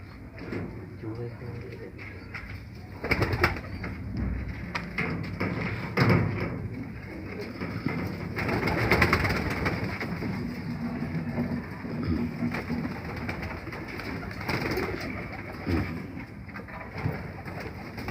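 Feeke Baajre pigeons, a male and a female, coo in soft repeated low phrases close by, with scattered thumps and shuffling while people talk over them.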